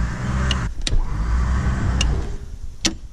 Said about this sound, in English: I'll throw that hook on real quick and spool up the winch